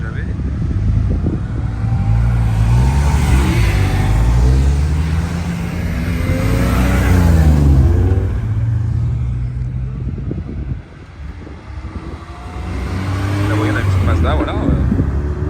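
A BMW M2 among other sports cars revs at the Nürburgring, engines droning and rising in pitch through varying throttle, loud and continuous with crowd noise and talk in the background.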